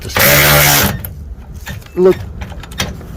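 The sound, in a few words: power tool tightening a bracket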